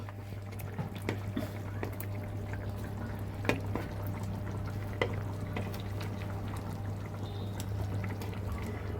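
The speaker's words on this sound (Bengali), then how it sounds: "এবার আমি মাছগুলো দিয়ে দিচ্ছি।" Pieces of fried hilsa fish are laid into a potato curry simmering in a pan, with soft bubbling, light drips and small clinks against a low steady background hum. Nobody speaks.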